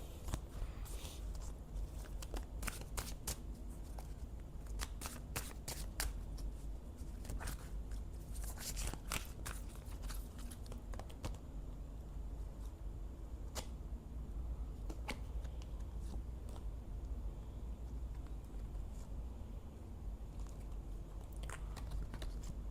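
Tarot cards handled and drawn from a deck, a long run of soft close crisp card snaps, shuffles and rustles coming in quick clustered bursts with brief lulls, no voices.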